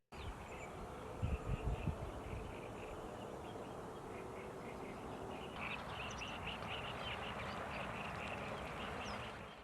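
Ducks quacking at a protected lake wetland, with a few louder close calls early on and a steady chorus of distant bird chatter and insect buzz.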